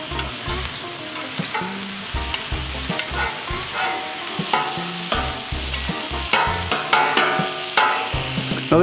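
Sliced turkey and ham sizzle and fry on a Blackstone griddle, with steady close crackling broken by frequent scraping and clanking spatula strokes as the meat is stirred and chopped.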